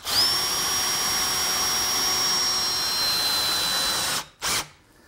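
Steady high-pitched whine of a power drill driving screws to fix a wooden console's back rail to its center bracket, loud and continuous for about four seconds, then stopping with a short final burst.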